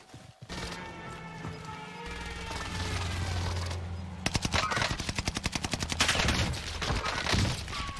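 Rapid gunfire from a Bren light machine gun rattles through a Call of Duty Warzone match on Caldera, with loud automatic bursts of close, fast repeated shots after a rumbling lead-in.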